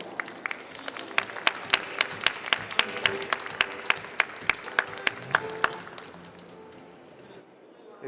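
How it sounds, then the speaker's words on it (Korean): An audience welcomes a lecturer at a talk on dog adoption with applause, a steady patter of claps and a few sharp single claps standing out near the microphone, fading away after several seconds. "박수로 맞이합니다"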